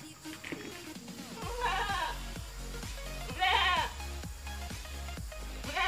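Goats on a farm bleat repeatedly next to a water trough, with several overlapping calls, some near and loud, over a steady low hum.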